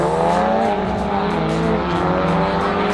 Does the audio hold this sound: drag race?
yes